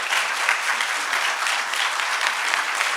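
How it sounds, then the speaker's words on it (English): An audience at a literature festival session breaks into steady, dense applause that holds at an even level throughout, with no voices rising above the clapping. "A little applause would help."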